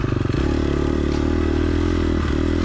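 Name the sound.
4-stroke dirt bike engine with unsteady throttle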